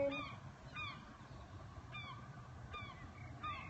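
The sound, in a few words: seagulls calling in the evening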